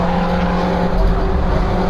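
A BMW Compact Cup race car engine drones loud and steady from onboard, heard at speed heading into Abbey Curve at Silverstone International in 2013.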